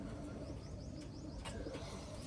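A racing pigeon of the Taiwan line coos softly in a loft, a few low, rounded calls heard faintly against a constant background hum, with occasional brief chirps layered above.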